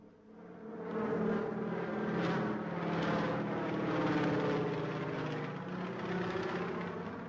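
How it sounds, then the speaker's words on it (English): A 1960s training aircraft at Bremen Airport takes off and flies low, producing a steady, rumbling engine drone that swells and holds for several seconds before easing slightly, with no talk. "they were able to demonstrate to the eminent African visitors take-off and perfect low-flying exercises"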